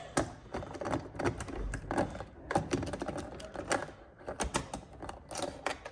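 A socket wrench with a magnetic-tip socket loosens a door trim panel screw on a 2021 Chevy Colorado Z71 pickup, giving rapid close ratcheting clicks in several bursts separated by brief pauses.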